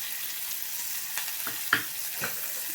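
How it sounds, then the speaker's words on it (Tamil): Steady low frying hiss from a pan, with a few soft stirring clicks and scrapes scattered through, no voices. "வெங்காயம் நல்லா வணங்கிட்டுங்க."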